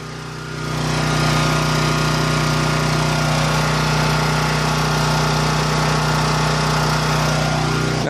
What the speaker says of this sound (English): You can't even notice this generator didn't even bog down.